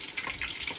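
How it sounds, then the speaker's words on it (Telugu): Kebabs frying in oil in a home kitchen, a steady close sizzle and crackle that holds for under a second with no voice over it. "ఇప్పుడైతే కబాబ్ వేసేస్తున్నాడు"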